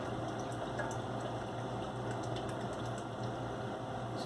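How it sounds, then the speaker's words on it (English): Steady chicken broth pouring into a pot, a continuous soft splashing stream with faint clinks, no voices. "The slowest pour in history."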